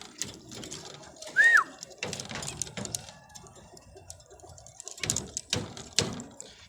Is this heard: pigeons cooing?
yes